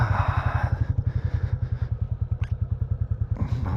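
A Royal Enfield Classic 350 motorcycle thumps close by at a low, even, rhythmic idle, with a faint clink partway through and a light clatter as it ends.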